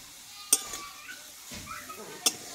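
A pan of ginger and garlic frying in oil for a Bengali yardlong bean and egg dish, with soft sizzling under a few sharp metal spatula clinks and scrapes.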